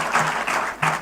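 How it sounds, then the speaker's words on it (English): An audience at a cooperatives congress in Naivasha claps in a loud, dense burst that swells, dips briefly and surges again. "let's clap big for that"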